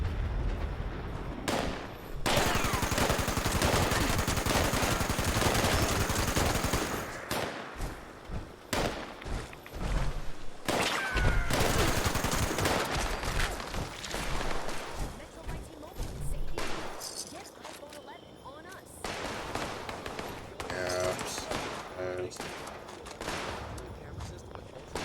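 Gunfire and explosions in the video game Fallout: dense, loud bursts of shots and blasts that carry on for most of the stretch, with brief lulls and game sound effects in between.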